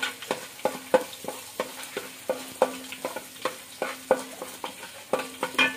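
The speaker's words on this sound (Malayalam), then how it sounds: "ചെയ്ത് വെച്ചിരിക്കുന്ന ഇഞ്ചിയും വെളുത്തുള്ളിയും കൂടെ ഇട്ട് കൊടുക്കുന്നുണ്ട്" Chopped ginger and garlic frying in a pan for tomato rice, a soft sizzle under rhythmic, regular spoon taps and scrapes against the pan, close and fairly quiet.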